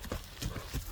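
Horse hooves clip-clopping at a steady walking rhythm, three clear hoof strikes in about a second, fairly close and moderately quiet.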